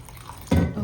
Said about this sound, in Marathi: थोडंसं पाणी.